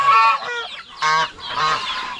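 Farm geese roaming free without a fence honk in three loud, brassy bursts close by, with brief gaps between calls and no speech.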